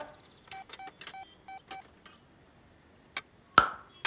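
A telephone number being dialed, a run of about seven short electronic keypad tones in quick uneven succession, followed by a couple of sharp clicks or taps.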